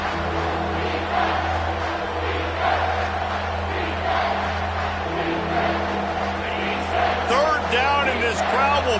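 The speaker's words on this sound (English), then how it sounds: "This crowd will blow out a vocal cord to help this defense." Stadium crowd roaring steadily in the College Football 25 video game, a dense sustained wall of cheering under a play-by-play commentator's voice, swelling toward the end as sharp whistles and shouts cut through.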